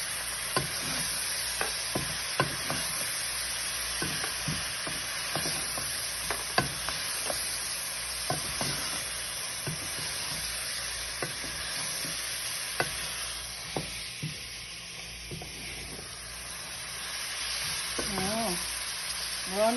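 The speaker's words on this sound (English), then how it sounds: "I like the onions to brown a little bit before I add on some more ingredients." Onions browning in a pot for stovetop beef stew, a steady close sizzle with repeated scraping stirs of a utensil throughout, frying continuing evenly underneath.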